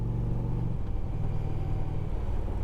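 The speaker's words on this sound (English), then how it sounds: "you crank on this baby, and she rewards you with a really healthy throttle sound" An Indian Roadmaster motorcycle engine rumbles steadily with a deep, continuous growl, its pitch shifting slightly as the throttle is worked, heard close and loud throughout.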